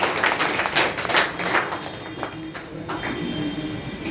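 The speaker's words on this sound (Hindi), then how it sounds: "चलिए इनके लिए जोरदार तालियां बजाइए।" An audience applauds, a steady, dense patter of clapping from a crowd heard at moderate distance throughout, with no clear start or finish and a faint tonal hum underneath.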